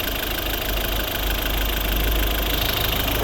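A 2012 Volvo V50 1.6 diesel engine idles steadily close by, a low continuous rumble with a faint knocking clatter and no voices.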